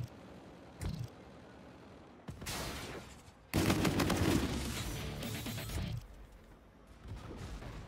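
Rapid automatic fire from the Auger Pulverizer light machine gun in Infinite Warfare, several loud sustained bursts of dense, rattling shots with short pauses between them and a brief pop at the start.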